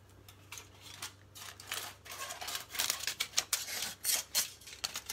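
Scissors snip and crinkle through thin tin foil in quick irregular cuts, close and fairly quiet, the crackling bursts growing louder toward the end.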